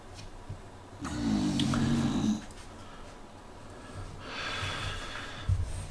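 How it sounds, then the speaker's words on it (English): A person snores with one drawn-out, rasping inhale in the middle, followed by softer breathy sounds, all fairly faint indoors. "I really hope that snoring is not killing everything."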